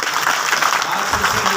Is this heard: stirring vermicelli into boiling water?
no